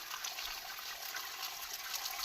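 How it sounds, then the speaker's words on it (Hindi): Spring drinking water flows continuously from a mountain source in Garhwal, a steady soft trickle and splash heard close by with no voices. "हमेशा ऐसे ही चलता रहता है ये पानी, कभी ख़त्म नहीं होगा।"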